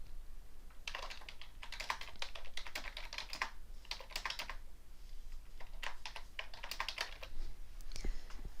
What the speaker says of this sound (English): I can type in my note here